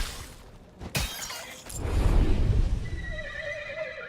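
A horse whinnies in the video game Titan Quest 2, the call rising over a sharp crash and breaking sounds near the start, then a lower rumble and fading neigh afterward.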